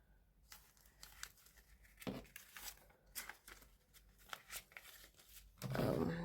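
Cash bills are slipped into a paper envelope with soft, close rustling, crinkling and tearing-like paper sounds in irregular bursts, ending in a louder shuffle.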